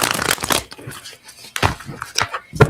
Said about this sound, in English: I'm going to shuffle the cards and pull some cards on Kai Cenat